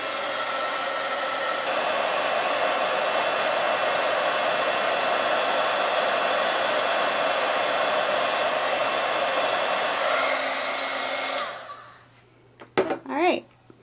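A heat gun blows a loud, steady whooshing roar for about eleven seconds while heat embossing a stamped card, then cuts off abruptly, followed by a few brief clicks and a short voice.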